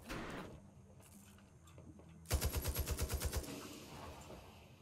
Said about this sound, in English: Shooting it's not gonna help it, Brandon.